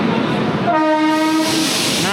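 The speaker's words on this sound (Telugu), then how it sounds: "అరే వేరే ట్రైన్ వచ్చింది" A second train arriving at a railway station, its loud horn sounding in one sustained blast over the close rumble of rolling carriages.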